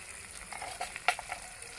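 Spices sautéed with chopped tomato, slit green chilies, chili powder and turmeric in a pan, giving a soft, close sizzle with a few brief stirring scrapes and one sharper clatter in the middle.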